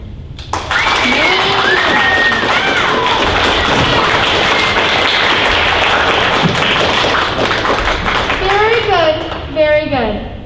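A school audience at a 5th and 6th grade musical applauding loudly, a dense, sustained wall of clapping with children's voices and shouts mixed in, tapering off near the end.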